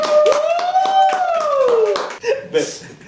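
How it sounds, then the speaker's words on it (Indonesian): An audience claps steadily for Bu Sita in a rhythmic patter of many hands, loud and near, while a voice carries on over the clapping and a little laughter follows. "Tepuk tangan untuk Bu Sita aja nih"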